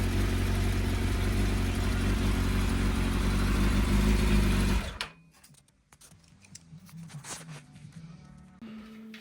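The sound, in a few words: motorcycle engine running while warming up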